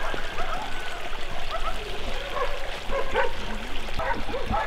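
Water trickling along a small washed-out ditch in a settlement, a faint steady flow under intermittent dog barking and yipping, with people talking nearby.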